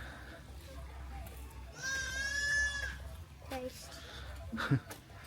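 A goat at a safari park in Phnom Penh, Cambodia, bleats once in a long wavering cry, fairly close, followed by a few short scattered noises and faint voices in the background.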